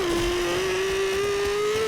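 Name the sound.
motorcycle chase in the video game Katana Zero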